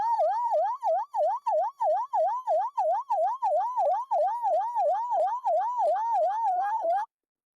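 A man imitates a police car siren with his mouth, a loud, close, rapidly rising and falling wail repeated in a steady rhythm for about seven seconds before stopping abruptly.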